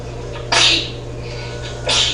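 Two short, sharp sneezes close by, about a second and a half apart, over a steady low hum.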